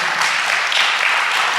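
A studio audience clapping together, a dense, even burst of applause that stays loud throughout the short moment.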